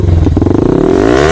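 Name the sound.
Yamaha R15 V3 motorcycle with Akrapovic exhaust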